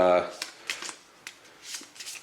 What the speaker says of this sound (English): Shuffle these guys in.